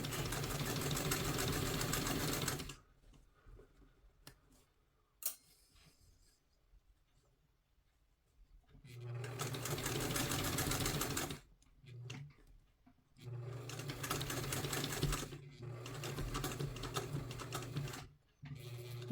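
A sewing machine stitches along the edge of a two-piece collar in three loud runs of humming, rapid needle strokes, separated by quiet pauses with faint handling sounds.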